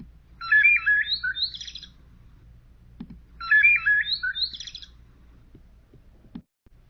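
A blackbird sings two similar bursts of warbling, chirping phrases, each lasting about a second and a half with a pause between, clear and fairly close over a faint low background hum, followed by a couple of soft clicks.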